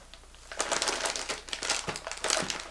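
A plastic bag crinkles close up in several short rustling bursts as an RC car part is pulled out of it.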